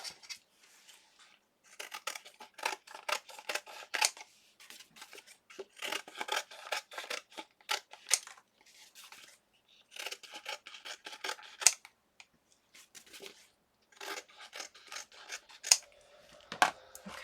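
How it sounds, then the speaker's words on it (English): Scissors snipping away excess fabric and lace during die-cutting crafting, a faint close series of irregular crisp cuts and rustles in bursts with short pauses, no talking. "Let me cut some of this excess off."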